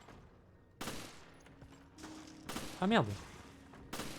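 Pistol shots in the video game Resident Evil Revelations, several separate loud cracks spaced about a second apart, mixed with a creature's rising cry and a brief muttered exclamation.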